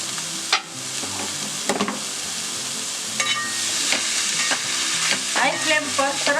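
Vegetable filling for a Jini roll dosa, with Schezwan chutney and ketchup, fries on high flame as a spatula stirs and scrapes the pan repeatedly over a constant loud sizzle.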